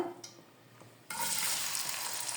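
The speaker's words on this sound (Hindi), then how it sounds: "हल्का ब्राउन होने तक मैं इसको फ्राई करूंगी।" Finely chopped onions drop into two spoons of hot oil and burst into a loud, steady sizzle that runs on without a break after a quiet moment.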